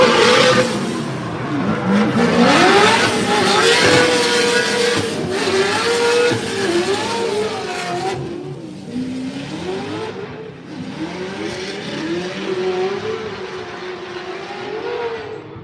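Drift cars rev hard through the course during Formula Drift Utah ProSpec warm up, engines wailing and bouncing in pitch with tire screech, loud at first then dropping and rising again as cars pass.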